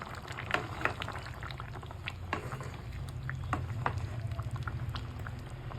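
Fish curry with potato, tomato and cauliflower simmering in a pot, with a soft, continuous bubbling and scattered small pops and spatters, heard quietly and close with no voices.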